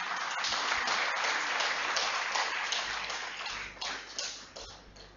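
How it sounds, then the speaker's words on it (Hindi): An audience applauds to welcome a speaker at a talk, giving a steady, dense clapping that holds for several seconds and then thins toward the end. "तो एक बार फिर हम राजीव भाई को अब सुनेंगे और मेरी गुजारिश है कि आप जोरदार तालियों से उनका स्वागत करें।"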